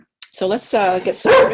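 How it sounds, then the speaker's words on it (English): A dog barks loudly and close by, several sharp yips and barks in quick succession, breaking in right beside a person who is speaking. "I apologize for the dog."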